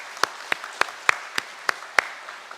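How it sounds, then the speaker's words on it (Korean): Church congregation applause at a Sunday service comes across as a sparse run of about eight crisp, distinct claps at a steady, slightly uneven pace, fairly quiet, with no talk over them. "우리 박수하겠습니다"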